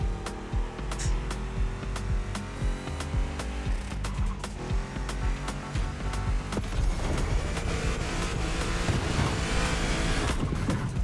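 Cars racing at high speed in The Crew Motorfest video game: a continuous loud engine roar with whining revs and tire noise, steady throughout with no talking.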